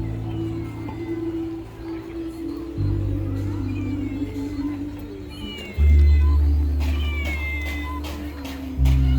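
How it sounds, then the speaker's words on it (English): A stuffed toy cat's meowing rings out loudly over a steady electronic drone, repeated several times in a mechanical, evenly pitched pattern, with faint chatter in the background, at a night market in Johor Bahru, Malaysia. "I thought that was a real cat."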